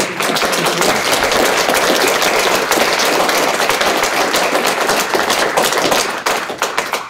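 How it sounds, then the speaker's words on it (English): An audience claps after a talk on the teachings of Chaitanya, a loud, dense burst of many hands sustained for several seconds before thinning out at the end. "A big round of applause."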